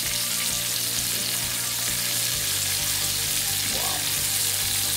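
Blackened scrod and shrimp skewers frying in a pan, a loud, continuous close sizzle with a few faint clicks and scrapes as they are flipped.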